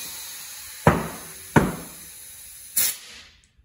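An air compressor blasts air into a mountain bike tire to seat it, three sharp bursts of rushing air with abrupt onsets, close and fairly loud, no talking.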